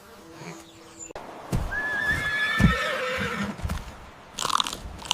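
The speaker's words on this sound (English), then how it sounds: "Giant golden savanna wild horse." A wild horse gives a loud, drawn-out whinny that rises and wavers, accompanied by crunching chewing sounds and a few sharp thuds, with the animal close by.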